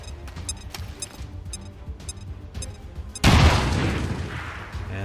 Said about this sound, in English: Grenade thrown.